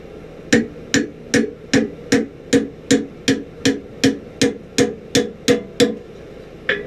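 Hammer blows on a hand-forged 1700s-style scalping knife blade bent over an anvil horn, about fifteen sharp ringing metallic strikes in an even, steady rhythm, close and loud, each with a short decaying ring.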